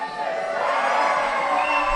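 Live studio audience at a variety TV show in Berkeley cheering and shouting together, a steady, dense wash of crowd voices sustained for about two seconds without pause.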